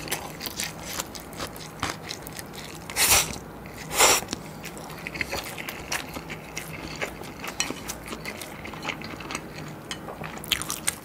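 Close, crisp chewing and slurping of cheese tteokbokki cup ramen, with soft wet bites and a couple of louder crunchy bites, steady throughout and without talk.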